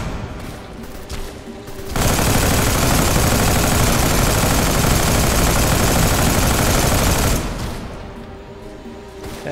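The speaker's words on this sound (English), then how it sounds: "That is a mega gun." Rapid sustained fire from a mega gun in Deadfall Adventures, a dense, loud unbroken roar of automatic shots lasting several seconds, starting and stopping abruptly against quieter game background.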